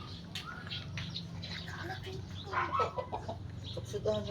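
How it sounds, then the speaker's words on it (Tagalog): A chicken clucks and squawks in short bursts outdoors, with a person talking nearby and other birds faintly in the background. "Andyan na manok ko."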